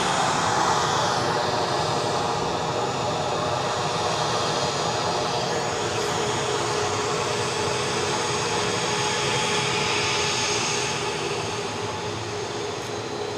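Jet airliner engines at Edinburgh Airport as the aircraft taxis out for a Newark flight, a continuous loud whine and rumble that stays even throughout without talk.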